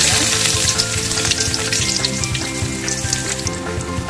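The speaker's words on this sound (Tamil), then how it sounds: "கடுகு பொருட்களும் நம்ம எடுத்து வச்சுருக்க வெங்காயத்தை ஆட் பண்ணிக்கலாம்" Onions and mustard seeds fry in a pan for a bitter gourd stir-fry, a loud, dense sizzle with scraping stir strokes coming through close up, and no one speaking.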